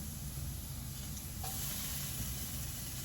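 Garlic clove and chopped yellow onion sizzling in melted butter in a pan, a steady close hiss and crackle that runs unbroken and alone throughout.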